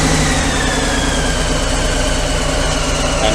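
Close and loud, a Harley-Davidson Sport Glide fitted with a Vance & Hines FP3 fuelpack idles with a steady low rumbling engine note that holds even throughout.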